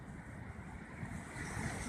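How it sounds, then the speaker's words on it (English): Steady ocean surf washes and rumbles continuously with wind buffeting the microphone, swelling slightly louder toward the end with no voices present. "If you look out at the ocean, like you are right now"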